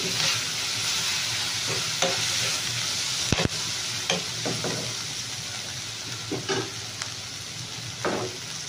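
Chopped tomato fries in a pan for a Bombay chutney curry, giving a soft continuous sizzle with scattered stirring scrapes and clinks of a spoon against the pan, fairly quiet and with no talk.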